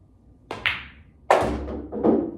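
A pool cue strikes the cue ball softly at its lower center, giving a few gentle thuds and taps spaced apart, close and moderately loud, with no talk over them.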